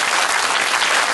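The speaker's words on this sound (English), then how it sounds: "Round of applause for Barry." Studio audience applauding a glowing lifebuoy invention on a television inventors' show, a dense, steady wash of clapping that fills the whole moment without any voices.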